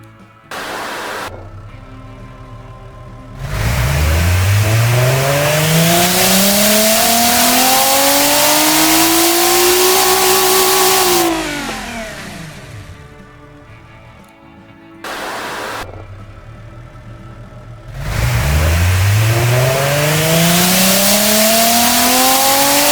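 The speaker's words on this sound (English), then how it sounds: "So let's see what this engine sounds like." A simulated car engine in the game Automation revs on a dyno, climbing in pitch, holding at a loud high roar, then dropping back before a second rev, with no talking.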